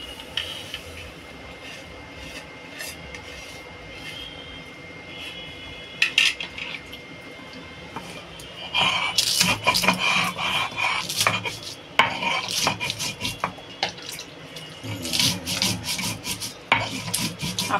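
Poppy seeds and green chillies are ground into a paste for hilsa fish, giving rough rhythmic rasping and scraping strokes that grow louder and busier partway through, close and alone without speech.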